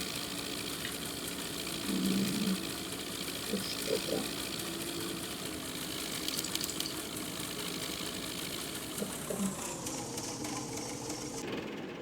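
A tractor engine idling in Farming Simulator 17, a steady mechanical chugging hum with faint intermittent tones and clicks over it.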